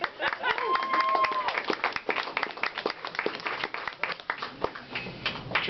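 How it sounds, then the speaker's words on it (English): A small audience applauding after a comedy set, a patter of individual claps that thins and turns uneven, with a voice speaking briefly early on. "How about a round of applause"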